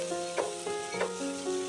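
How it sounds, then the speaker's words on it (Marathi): Chopped onion sautéing on a small tava until soft and golden brown, a steady close sizzle with soft scraping stirs every half second or so and no talking. "हा कांदा आपण छान असा मऊसर परतवून घेणार आहे"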